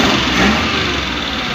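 A 5A 6-valve car engine running after repair, a steady, loud, close mechanical hum and rumble with no pause, heard briefly.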